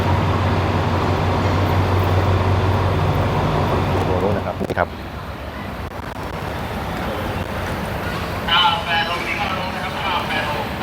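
Low, steady rumble of a train moving through Hua Lamphong station in Bangkok, with a brief squeal, then a quieter hum of traffic and faint background voices.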